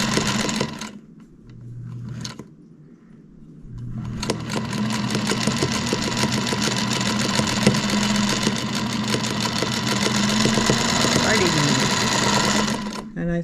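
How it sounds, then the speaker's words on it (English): A sewing machine stitches pieces of quilt block fabric together in a long, fast, steady mechanical whir after a brief start-stop burst near the beginning, with a voice speaking over it. "Keep your fabrics together and sew away"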